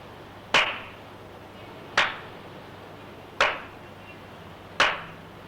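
Four sharp hand claps spaced evenly about one and a half seconds apart, marking the beats of a rhythm, crisp and close in a quiet room, each with a short ringing tail.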